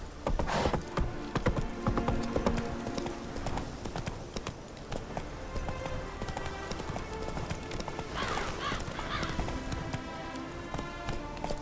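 Galloping horse in The Witcher 3: Wild Hunt, steady rapid hoofbeats carrying through the whole stretch over game music, with a brief whinny partway through and a short spoken line.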